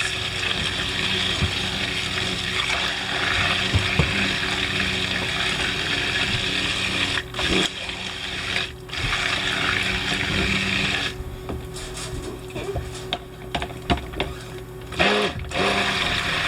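Stick blender whirring steadily through soap batter mixed with activated charcoal in a single-cavity mold project, a loud, continuous motor drone with brief pauses near the end, no talking.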